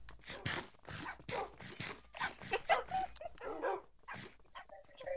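Puppies in a Minecraft game yip, bark and whimper in quick, irregular bursts, close and moderately loud, with no talk over them.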